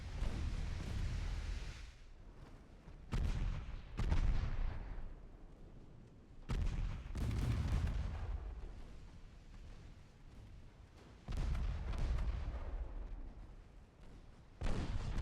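Naval guns fire in the warship battle game Ultimate Admiral Dreadnoughts. About seven heavy, booming salvos come at uneven intervals, each followed by a long, rumbling decay, with no voices.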